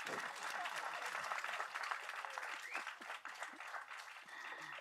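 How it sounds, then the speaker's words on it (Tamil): Audience applause at a Tamil film event: a dense, sustained round of clapping from a crowd, steady throughout and fading slightly near the end, with some faint voices underneath. "அதே மாதிரி இந்த படம் வெற்றி அடைய அனைவரும் ஓங்கியவர்கள் கைத்தட்டல் கொடுங்க."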